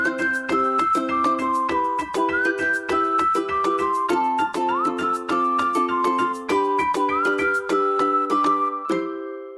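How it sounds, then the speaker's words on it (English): A TV theme tune played on a tin whistle, a bright solo melody of quick tongued notes with steady rhythm and occasional slides, close and loud with no voices. "What a wonderful selection of theme tunes, particularly those played on your tin whistle"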